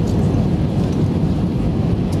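Passenger airplane on final approach to La Palma airport in the Canary Islands, heard from inside the cabin as a loud, steady low engine roar and rushing air without pause.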